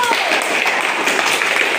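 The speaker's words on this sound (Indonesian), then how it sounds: "Tepuk tangan dulu." Steady applause fills a classroom, a dense wash of many hands clapping at once, loud and continuous throughout.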